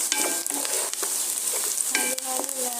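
Ampalaya (bitter gourd) and garlic sizzling in a frying pan while being stirred, with a steady hiss and repeated close scraping and clinking strokes of the utensil against the pan.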